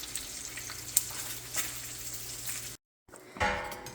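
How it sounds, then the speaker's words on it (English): Whisk scraping through melting cream cheese in a pan for an asparagus casserole, soft continuous stirring with faint sizzling, briefly cut off before a louder clatter resumes. "just keep whisking it for a little bit"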